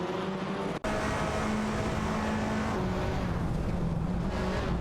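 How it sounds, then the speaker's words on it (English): An Alfa Romeo Giulietta TCR and an Audi RS3 TCR race in a video game, their engines droning loudly and steadily at high revs, with a brief cut near the start, no talking. "Shipperman is driving an Alfa Romeo Giulietta TCR, while One Serious Guy is behind the wheel of an Audi RS3 TCR"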